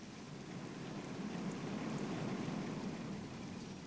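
Steady rain hisses without a break in RollerCoaster Tycoon 3, a soft, even wash of falling water with no voices over it.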